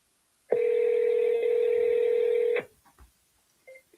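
A single long telephone tone sounds steadily for about two seconds on an outgoing call to a real estate agent's office, then cuts off, leaving quiet with faint rustles.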